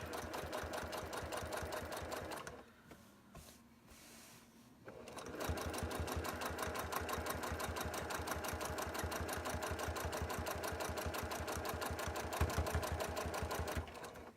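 Close, loud sewing machine stitching in a fast, even mechanical chatter that stops for a couple of seconds, then resumes steadily to the end.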